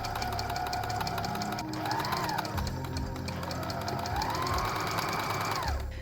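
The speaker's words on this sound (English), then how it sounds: "I needed to re-sew that one seam back together where I had pulled out the visor part" A sewing machine runs steadily and close while re-sewing a seam on a hat, its rapid needle clatter continuous with slight rises and dips in motor pitch.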